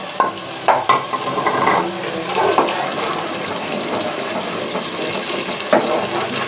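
Ground tomatoes stirred into lightly browned onions in a hot pan, giving a steady wet sizzle and frying hiss with occasional spoon knocks and scrapes, close and continuous.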